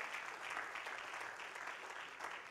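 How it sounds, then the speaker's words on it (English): Congregation clapping during a church service, a steady, fairly faint wash of many hands heard from a distance without pause. "I'm sure you can make your clap bigger for Jesus."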